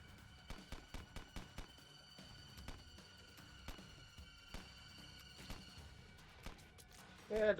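Rapid popping shots from The Binding of Isaac while shooting enemies point blank, a quick run of sharp bursts at first, then sparser scattered shots over faint game music, with a louder burst at the end.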